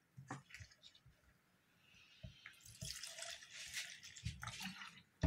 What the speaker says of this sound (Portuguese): E vou colocar 50 ml de álcool para conservar o sabão.